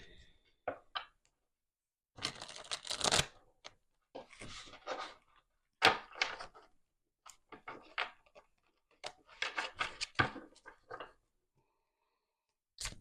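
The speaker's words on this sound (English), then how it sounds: "Let's do one more shuffle." Quiet papery riffling and slapping in irregular bursts with pauses between, as tarot cards are shuffled close by.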